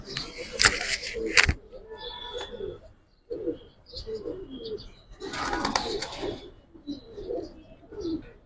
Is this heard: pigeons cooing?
yes